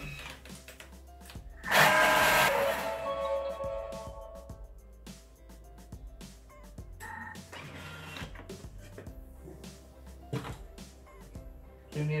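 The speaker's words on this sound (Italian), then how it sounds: "azioniamo il bimby per altri 30 secondi a velocità 7" A Thermomix (Bimby) food processor runs at speed 7, a loud whirring burst near the start that settles into a steady mechanical hum for the rest, close and alone.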